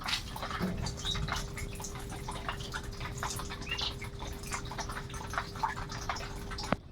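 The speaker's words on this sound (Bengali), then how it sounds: "এই যে মোটর দিয়ে জল দিচ্ছে এখানে।" Water from a motor pump pouring into a paddy field, a steady splashing, dripping flow with a faint constant hum running underneath throughout.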